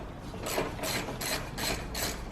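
A ratchet on an extension loosening a 10mm bolt in a 2013-2021 Mitsubishi Outlander engine bay, giving five soft, rhythmic raspy clicking strokes, quiet and close, with no talk.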